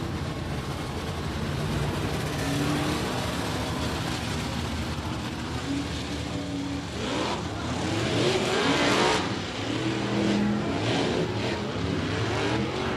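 Gunslinger Outlaw Modified race cars idle and rev before a heat race at Big O Speedway, a continuous gritty engine drone with intermittent louder bursts of throttle, somewhat distant.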